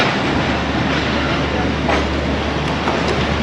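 The Mianwali Express rolls into Sargodha Junction with a loud, continuous rumble of wheels and carriages and a low steady drone throughout.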